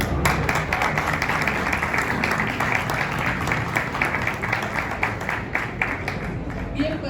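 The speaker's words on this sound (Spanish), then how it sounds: "un gran aplauso por la celebración" An audience applauds at a book presentation celebrating the centenary of Radio Educación, with a steady, dense wash of clapping that holds evenly throughout and some voices mixed in.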